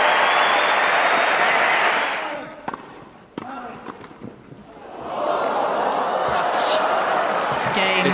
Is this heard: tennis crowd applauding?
yes